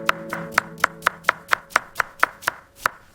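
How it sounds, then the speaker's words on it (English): Vegetables being chopped on a board, a series of about eleven crisp, evenly spaced knife strikes at close range, with no talk. "Wash and chop your vegetables nicely"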